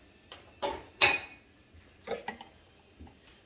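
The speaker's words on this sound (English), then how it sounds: "So I'm going to put the dishes in the dishwasher." Dishes, pots and cutlery clatter as they are loaded into a home kitchen dishwasher, with a few separate clinks and knocks spaced over a few seconds, one sharp ringing clink standing out, close and moderately loud with no talk.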